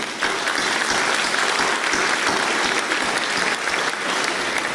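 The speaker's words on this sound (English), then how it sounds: "Please join me in a round of applause in recognition to those working behind the scenes" Audience at the Port of Brownsville's 2018 State of the Port address bursts into sustained, dense applause, a steady wash of many hands clapping at even loudness throughout.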